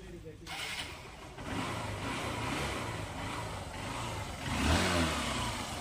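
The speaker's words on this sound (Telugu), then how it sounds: "చూసారు కదా ఇంజన్ సౌండ్." A Honda Shine motorcycle engine, original paint and in good condition, starts and runs with a steady mid-range hum that swells into a rev near the end, close by and alone.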